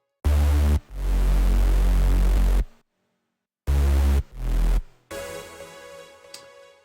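A buzzy, bright saw-wave mid bass layered over sine sub bass in Ableton plays loud stabbing and held notes with gaps, then a quieter sustained tone fades out.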